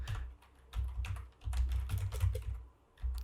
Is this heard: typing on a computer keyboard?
yes